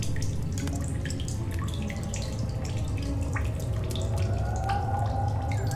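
Steady running water from a free water source in a sci-fi video game, a continuous splashing rush with scattered drips and trickles throughout, close and fairly loud, no talk.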